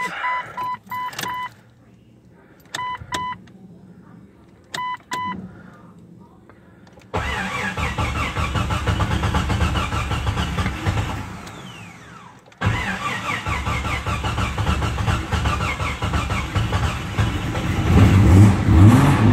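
A freshly built 4.7 stroker engine is cranked and fires on its first start in a garage, following a few electronic beeps and chimes, then settles into a loud, steady fast idle near 1800 RPM with a brief interruption and rising roar.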